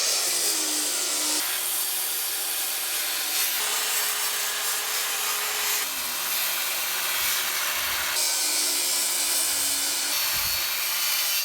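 A handsaw cuts through the end of a wooden floor joist in a cabin build, making rhythmic rasping strokes in several bursts, close and fairly loud, with no voices.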